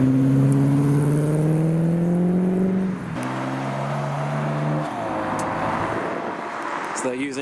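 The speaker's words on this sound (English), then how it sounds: "We have the Golf liveried GT40 next." A Gulf-liveried Ford GT40 pulls away from a car show, its loud, close engine note holding steady and then dropping sharply at a gear change around three seconds before revving on as it moves off.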